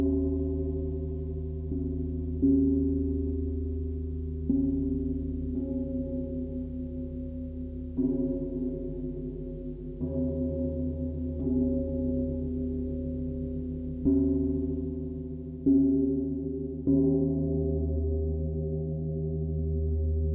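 A gong played on its handpan side gives struck, resonant melodic tones that ring with deep sustained overtones, with a new stroke every couple of seconds and no talking.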